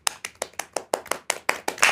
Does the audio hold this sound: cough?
no